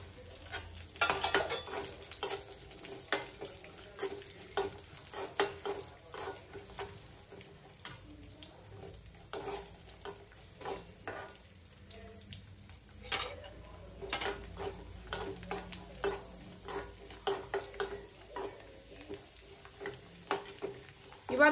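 Raisins frying in a pan for rice kheer, stirred with a utensil, giving a faint continuous sizzle broken by quick, irregular scrapes and light clicks of the spoon.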